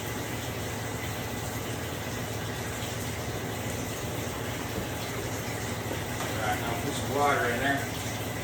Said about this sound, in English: rinse out the cup.